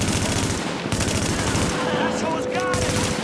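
Rapid bursts of automatic gunfire in The Division, a post-apocalyptic third-person shooter, crackle loud and close in a dense, continuous volley, with a few brief shouted voices underneath.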